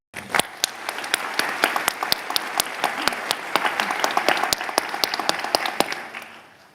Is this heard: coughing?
no